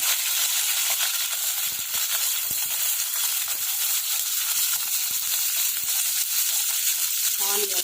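Cumin seeds and green chillies sizzle loudly in hot oil in a pan, a dense, constant crackling hiss held close throughout.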